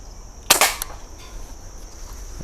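A single sharp report from an Umarex NXG multi-pump air rifle, fired after five pumps, rings out once and then decays quickly into a quiet outdoor background.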